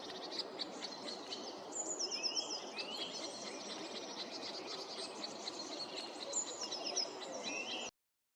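A middle spotted woodpecker call played back on a device, with repeated high chirping notes over a steady busy bed of birdsong and insect noise, moderately loud throughout.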